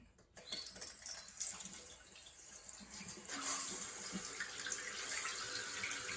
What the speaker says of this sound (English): you'll see the water will be filling inside the tube and on the bottom of the tank simultaneously